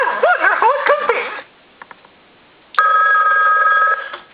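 A Mickey Mouse animated toy telephone gives a warbling cartoon-style sound, goes quiet with a few faint clicks, then rings with a steady electronic trill for about a second and a half. The sound is loud, close and has no talk over it.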